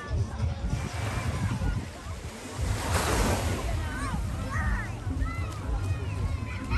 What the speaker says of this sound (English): This is the Emerald Beach.